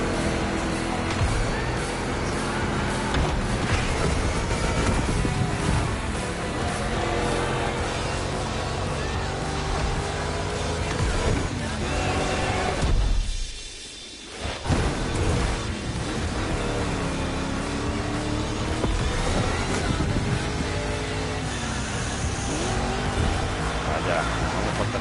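A monster-truck Mustang GT roars through a two-lap race in the video game The Crew Motorfest, its dense engine drone and tire noise continuous apart from a short drop mid-race, with a voice talking over it.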